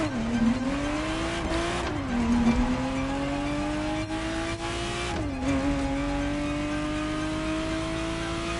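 A Ferrari Testarossa drives along an open road, its engine droning steadily and rising in pitch through long pulls, with brief dips at gear changes around a sustained, near, loud tone.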